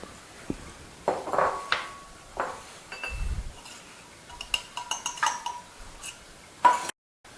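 Cold butter mashed into flour in a small bowl for banana bread, heard as irregular clinks and scraping knocks of a utensil against the bowl, close and fairly quiet, with brief pauses and no talking.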